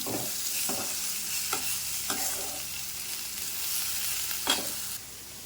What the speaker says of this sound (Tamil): உருளைக்கிழங்கு போட்டு நல்லா புரட்டி விடணும்